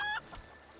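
A rooster in Final Fantasy XIV gives a brief cluck, short and fairly faint, alone without talk.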